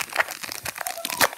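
A Pokémon Sword and Shield booster pack's foil wrapper is torn open by hand, giving a brief, close burst of crinkling and ripping with no talk over it.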